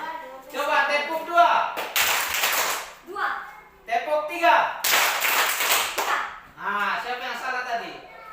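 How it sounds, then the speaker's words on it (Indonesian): A group of children claps in short bursts, several sharp crackling rounds of hand claps alternating with an adult voice calling out instructions between them. "Coba tepuk 2. Tepuk 3."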